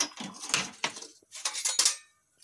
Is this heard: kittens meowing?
no